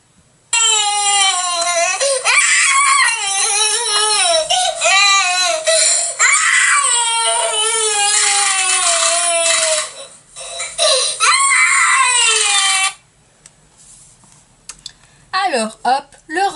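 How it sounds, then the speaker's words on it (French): A shrill, wailing scream and cry standing in for a little crocodile in a French children's story reading, loud and continuous with wavering pitch for about twelve seconds, then a few shorter sobbing bursts near the end. "le terrible petit crocodile continuait de hurler"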